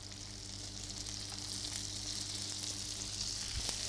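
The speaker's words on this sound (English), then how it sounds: "I'm going to very simply just toss them off in a little bit of butter." Prawns frying in a little butter in a non-stick pan, a steady soft sizzle with faint crackle and a few light stirring knocks, close and constant, no talking.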